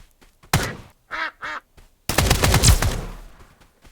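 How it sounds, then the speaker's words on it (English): Ducks in the video game Escape from Duckov give two short nasal quacks between sharp gunshot bursts, then a long loud stretch of rapid fire trailing off. "This area can have a few ducks."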